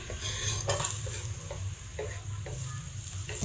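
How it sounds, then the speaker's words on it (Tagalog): Garlic sautéing in a saucepan for adobo: a steady, close oil sizzle with light stirring clicks and scrapes of a utensil against the pan throughout. "Mag-isa na tayo ng bawang."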